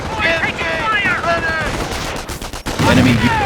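Gunfire in the World War II strategy game Company of Heroes, loud rapid bursts of small-arms and machine-gun fire under shouted soldier voices, with a heavier blast near the end.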